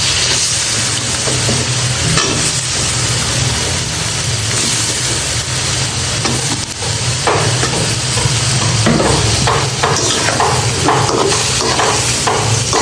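Vegetables fry loudly with spices in a pan, a constant heavy sizzle under repeated scraping stirs of a spatula, close and continuous, no talk.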